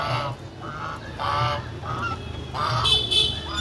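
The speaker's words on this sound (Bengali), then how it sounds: "দেখতেই পাচ্ছ হাঁসগুলো কি সুন্দর খেলছে এখানে" Several loud, nasal honks from ducks call in bursts over a low background rumble, close by and repeated irregularly.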